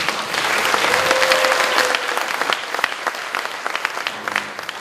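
An audience at a talk applauds Dr. Oh Geon-ho, dense clapping loud and steady at first, thinning into scattered claps toward the end, with a faint voice briefly audible early on.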